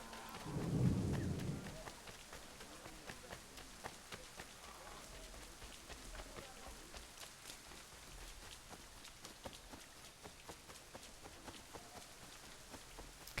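A video game thunderstorm opens with a low rumble of thunder, then rain patters steadily, with scattered crisp drops and soft thuds over a constant hiss.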